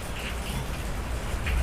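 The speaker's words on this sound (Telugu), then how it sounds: "వాన ఫుల్ వాన, మెరుపులు" Heavy rain falls in a forest with a steady, dense hiss and patter, fairly loud and continuous with no voices over it.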